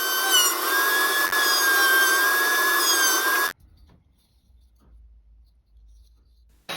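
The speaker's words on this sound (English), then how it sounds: "I put a round over bit in the router table and then ran through all the edges" A router table fitted with a round-over bit cuts along wooden edges, giving a loud, steady whining roar with a high tonal pitch for about three seconds before cutting off abruptly into near silence.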